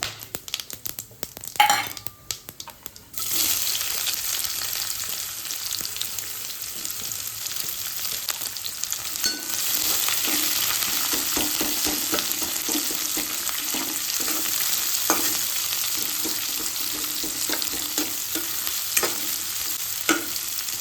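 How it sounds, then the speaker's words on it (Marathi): Onion frying in a few spoons of hot oil with cumin, turmeric, coriander powder and other spices for dal masala khichdi: after a quiet start, a steady close sizzle runs throughout, broken by scraping stirs. "आता आपण त्याच्यात कांदा घालूया।"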